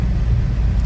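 Steady low rumble from inside a Ford Focus driving on the road at an even pace, engine and road noise droning without talk.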